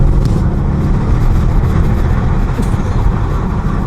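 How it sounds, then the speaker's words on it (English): An Audi RS6 Performance with a performance exhaust roars steadily and loudly, a deep continuous engine and exhaust drone heard close up, with no talking. "it makes good noises because it has got the performance exhaust."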